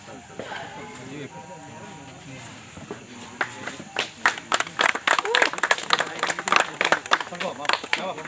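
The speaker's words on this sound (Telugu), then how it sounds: "అందరు క్లాప్ చేసి సెకండ్ ప్లేస్ కాసయ్య బాబు" Audience clapping for the doubles second-place winners at a Mahanandi shuttle badminton tournament in Kurnool district, applause building from scattered claps into a dense burst of many hands; voices talk over it.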